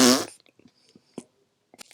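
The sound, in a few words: people imitating a fart sound together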